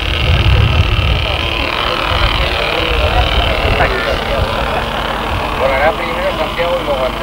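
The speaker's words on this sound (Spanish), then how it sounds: "Ya está puesto en marcha el motor del helicóptero." An RC model helicopter engine runs at a radio-control helicopter festival in Igualada, giving a steady mechanical whine and hum under continuous commentary.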